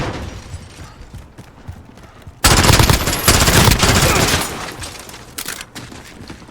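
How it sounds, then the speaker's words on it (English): A P90 submachine gun in Call of Duty: Modern Warfare fires a loud, rapid automatic burst lasting a couple of seconds, then a few shorter bursts. Quieter game noise comes before it. "The second submachine gun you unlock is the P90."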